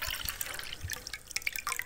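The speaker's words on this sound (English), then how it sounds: "And finally, we poured the chicken broth on top." Chicken broth is poured over layered bacon, meat and vegetables in a large pot, giving a steady wet trickle with scattered drips and splashes, close and fairly quiet, with no voices.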